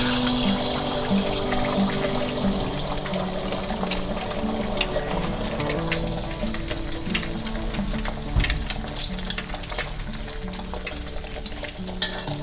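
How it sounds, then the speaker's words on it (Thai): Steady sizzling and crackling of eggs frying in hot oil in a pan, continuous and close, with occasional clinks of a utensil. "เราให้เอาไข่ลงมาทอดก่อน"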